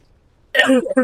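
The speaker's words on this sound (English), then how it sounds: "How dare you attack me when I'm coughing?" A character in a video game set in medieval China gives one short, harsh cough or throat-clear that breaks a moment of near silence. It is close and fairly loud, with a brief second catch at the end.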